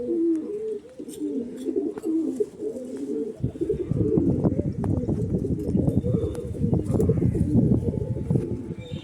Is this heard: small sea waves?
no